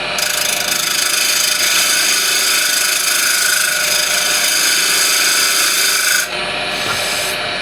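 Spindle gouge cutting on a wood lathe while truing the flat flange of a turned gift piece, a steady loud hissing rasp that runs continuously, then drops to a lighter whir near the end.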